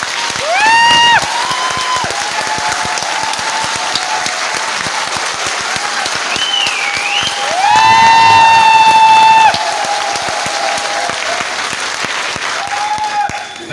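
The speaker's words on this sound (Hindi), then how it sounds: "बिना म्यूजिक के ताली बजा सकते हैं क्या?" A seminar audience claps without music, sustained loud applause with a few shrill whistles and shouts rising through it before the clapping fades.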